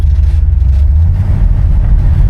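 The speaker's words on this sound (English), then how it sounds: "455 has more than enough power to move this girl." A 1969 Oldsmobile 98 with a 455 V8 cruises along with a steady, deep engine rumble and road drone that stays even and close throughout, with no talking.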